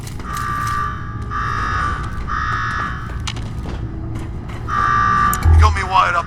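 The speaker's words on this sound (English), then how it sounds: "Now go shut off that damn alarm." A pulsing electronic alarm in the Fallout 4 Nuka-World game, a steady tone that cuts in and out in roughly one-second bursts, with voices talking over it and a low thud near the end.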